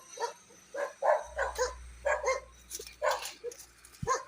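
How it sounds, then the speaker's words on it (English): Several dogs bark outdoors at the grounds of a Methodist church with a graveyard in Porus, Manchester, producing repeated sharp barks at moderate distance in an uneven rhythm, with a low steady hum running underneath. "Oh, dogs are barking at me."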